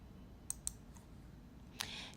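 Computer mouse clicks in facial-measurement software: two quick, sharp clicks close together, then a third after a pause, all quiet and crisp over a faint background hiss.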